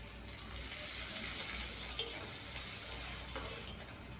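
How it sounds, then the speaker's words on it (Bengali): Chopped onion, slit green chillies and minced ginger fry in a pan, giving a steady, close broadband sizzle with occasional light stirring clinks, no voices. "তো আদার কাঁচা গন্ধ চলে যাওয়া পর্যন্ত আমি আদাটাকে ভেজে নেব।"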